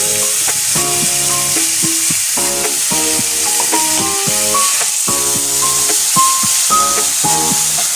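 A paste of ground ginger, onion, garlic, chili and tomato fries in a pan with a constant sizzle and stirring scrapes, partly covered by melodic background music.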